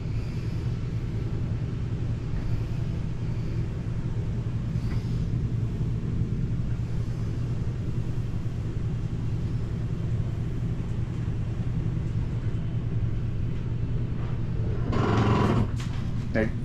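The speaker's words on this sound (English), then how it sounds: "That noise is just a slide mechanism letting you know it's all the way in." Jayco Eagle 312BHOK travel trailer bunk room slide-out mechanism running steadily with a low drone, ending in a brief louder mechanical burst as it reaches fully retracted.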